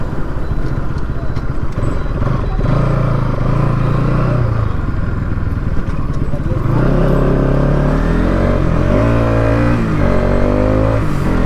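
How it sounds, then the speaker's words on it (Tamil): A Bajaj Pulsar NS 200 motorcycle engine runs close and loud, sputtering unevenly, then revs up and down in several rising and falling surges over the last few seconds. "வண்டி இங்கேயே அடைக்க ஆரம்பிச்சிருச்சுங்க"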